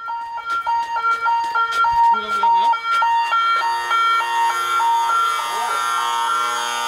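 A loud electronic alarm at an eel fish farm sounds as a repeating stepped two-tone melody, steady and insistent throughout, with a short sliding warble partway through and no speech over it.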